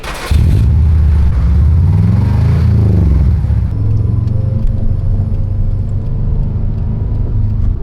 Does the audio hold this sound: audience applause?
no